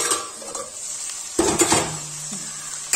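Okra stir-fry for Kerala vendakka mezhukkupuratti sizzles steadily in a pan, with a burst of spatula scraping and clattering as the okra is stirred partway through, then a low simmering hiss.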